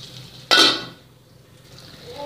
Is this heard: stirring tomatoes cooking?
yes